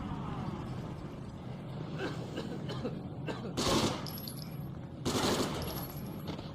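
Machine gun fire from a Normandy, France war video game rattles in bursts over a busy background, with two louder volleys near the end.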